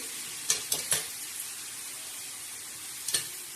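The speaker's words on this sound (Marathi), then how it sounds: "तव्यावर भाजी टाकणार आहोत. हे बघा याला तडका बसलेला आहे." A soft, steady sizzle of fenugreek greens with a cumin-garlic tempering on a hot griddle, with a few quick scraping clicks early on and again near the end.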